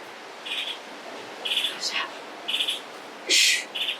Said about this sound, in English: Birds are cheering for you here.